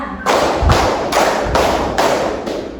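A classroom of students claps hands together in unison, five loud, evenly spaced broadband claps filling the room, each clap a dense burst blending into the next with no voices.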